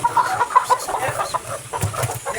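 A Kelso and Peruvian cross gamefowl rooster on a farm clucks in soft, repeated low calls close by, with faint bird noise in the background.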